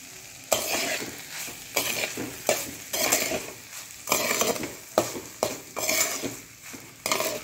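Foxtail millet pulao stirred in a pan with a spoon in a series of distinct scraping strokes, roughly one per second, over a faint background sizzle.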